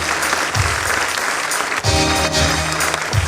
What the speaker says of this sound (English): Friends, let your applause please be relentless.